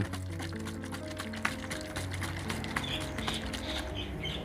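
Shallot-juice pesticide mixture being shaken in water inside a container, giving a continuous sloshing, splashing liquid sound with small knocks, close and moderately quiet.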